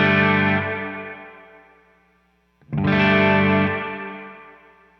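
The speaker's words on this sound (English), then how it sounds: "Let's turn up this digital reverb all the way just so you can hear the trails" Two sustained electric guitar chords through a Victory The Jack 180W hybrid amp with its digital reverb fully up, each ringing loud and decaying in long, slightly modulated trails.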